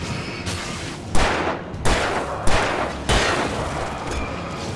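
Gunshots in Alan Wake Remastered, four heavy booming blasts spaced about a second apart over a dense noisy game background, loud and close.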